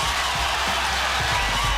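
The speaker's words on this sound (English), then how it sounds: "The crowd erupted, bearing witness to the birth of a legend." A crowd cheers and whoops for Tony Hawk's skateboarding 900, a dense, steady roar with scattered clapping that stays fairly even and somewhat distant throughout.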